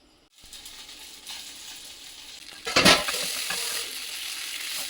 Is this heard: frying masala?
yes